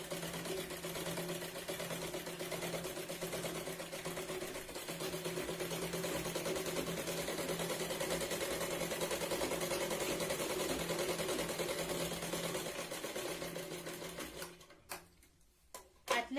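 A sewing machine runs in a steady, continuous stitching drone, sewing a katori blouse's lining to its main fabric, close and alone for about fourteen seconds before stopping abruptly near the end.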